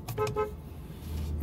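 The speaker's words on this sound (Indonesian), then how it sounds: "dan ini bunyi klakson ya" A 2021 BMW X3 xDrive30i M Sport's horn sounds in a few short, bright toots, close by, with a louder blast at the end over a low engine rumble.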